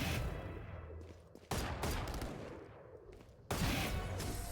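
Gunfire in the tactical shooter Valorant crackles in sharp bursts, two sudden loud volleys with fading rattling decays between them, close and dominant with no talk.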